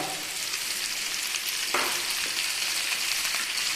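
Onions, tomatoes and cashews sauté in a hot pan for a restaurant-style mushroom masala, giving a steady close sizzle with a brief stirring scrape partway through and no talking.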